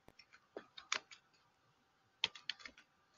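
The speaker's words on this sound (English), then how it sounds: "by just typing the command" A command is typed on a computer keyboard, heard as faint, close, irregular key clicks in two short bursts separated by a brief pause.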